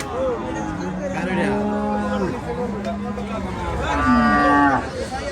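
Cattle moo loudly several times nearby at a cattle market in Chandimura, Cumilla, long drawn-out lows over a busy background of people talking.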